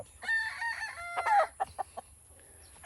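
Rooster crowing at a game farm, including bull stags: one cock-a-doodle-doo call with clucks and short crows following, close and fairly loud, no talk.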